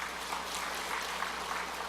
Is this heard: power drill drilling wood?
no